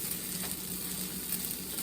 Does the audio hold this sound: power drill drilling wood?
no